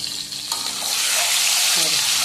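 Egg masala frying in a pan, a loud, bright sizzle that swells and stays dense, with a scrape of stirring partway through.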